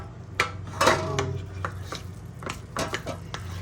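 A utensil mixing ingredients, including olive oil and a butter substitute, in a bowl, with irregular clinks and scrapes against the bowl, some louder knocks, close and alone.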